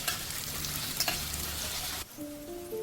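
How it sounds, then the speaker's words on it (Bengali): Small pieces of potato sizzle and crackle steadily in hot oil, a close, dense frying hiss with a few utensil stirs, cutting off abruptly near the end where faint tonal hums remain. "তেল গরম হয়ে গেলে ছোট ছোট টুকরো করে কাটা একটা আলু দিয়ে ভালো করে ভেজে নেব।"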